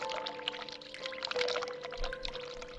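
Hot water runs in The Cat Lady video game, a continuous splashing pour heard at close range with a faint tonal hum underneath.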